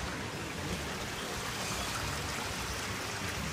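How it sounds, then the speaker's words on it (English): Spring water gushing steadily out of a reservoir at a desert spring near Jericho, a dense continuous rushing and splashing roar, close and unbroken throughout with no voices. "here's the water as it comes gushing out of the reservoir where the spring actually is"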